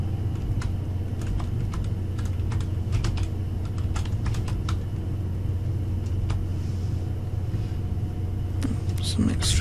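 Steady typing on a computer keyboard, a rapid run of close key clicks over a constant low hum, with brief pauses between bursts.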